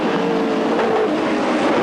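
Australian touring cars from the 1995 ATCC round at Barbagallo race into the first right-hand corner, several engines roaring together in a loud, steady, close-up blare with no break for the whole burst.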